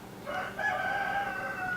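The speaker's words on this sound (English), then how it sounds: "Stupid rooster." A rooster crows once nearby, one sustained, wavering call with no talk, fairly faint against a quiet background.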